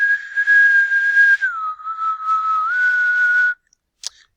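A person whistles a clear sustained note into a phone frequency-measuring app. The pitch steps down and then back up, stops after about three and a half seconds, and is followed by a brief click.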